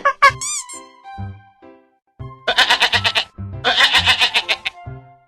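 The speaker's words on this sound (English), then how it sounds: "Goat." Animated goat bleating in a cartoon animal-names lesson for kids: a short trembling bleat first, then two longer loud wavering bleats with rapid pulsed vibrato, clear and close, with no talk over them.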